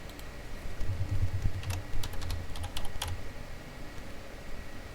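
Keys on a computer keyboard are tapped in short bursts, a quiet cluster of quick clicks with brief pauses between groups, alone against a low background hum.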